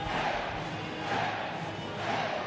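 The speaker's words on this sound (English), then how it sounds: "The home crowd getting into it now." A home crowd roars at a women's volleyball match, a dense sustained cheer swelling in waves throughout the arena.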